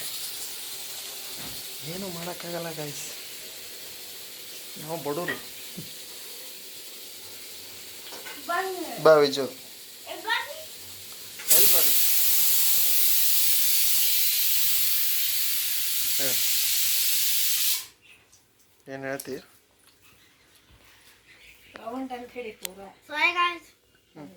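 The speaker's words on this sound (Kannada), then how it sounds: "ಕುಕ್ಕರ್ ಒದರ್ತಾ ಇದೆ ಕುಕ್ಕರ್ ಸಿಟಿ ಬೇರೆ ಕಿತ್ತೋಗಿದೆ" A pressure cooker with a broken whistle vents steam in a loud, continuous hiss lasting several seconds, with voices talking before and after it.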